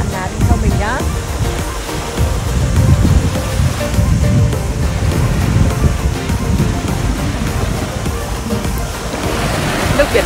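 Ocean waves wash onto a long white-sand beach at Mangawhai in Northland, New Zealand, a loud, continuous surf roar with heavy wind buffeting and rumbling throughout.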